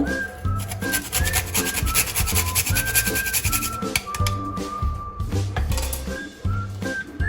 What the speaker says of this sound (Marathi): मी आता याच्यामध्ये थोडस जायफळ किसून घालणार आहे